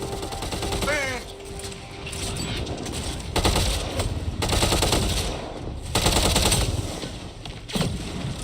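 Automatic gunfire from a Mass Effect Andromeda firefight, with loud bursts of rapid shots repeating through the clip alongside sci-fi weapon effects and a brief voice exclamation.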